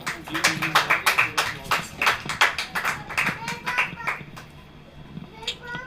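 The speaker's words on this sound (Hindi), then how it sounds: "प्रभु की उपस्थिति के लिए एक बार जोरदार ताली बजाएं" A church congregation claps loudly and rhythmically for a few seconds, the sharp claps fading out toward the end, with children's voices mixed in.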